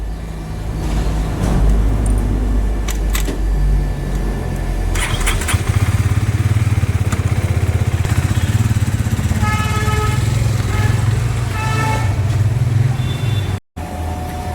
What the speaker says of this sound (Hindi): अब भाई जा रहे हैं हमारी एक्सट्रीम की टेस्ट ड्राइव लेने